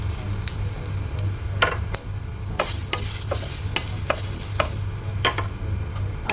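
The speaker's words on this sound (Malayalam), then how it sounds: "ഇതൊന്ന് ശരിക്കും വറുത്തെടുക്കണം" Spices rattle and scrape in a dry pan with curry leaves as a spatula stirs them in repeated sharp strokes over a steady low hum.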